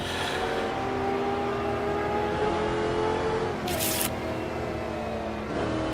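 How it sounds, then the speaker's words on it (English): Nissan race car engine droning steadily in a 1960s-era sim racing game at Kyalami, a continuous tonal roar with shifting pitch and a brief burst of extra noise midway. "Oh, there's a Nissan. You can hear it, I think. It's the only car that's loud."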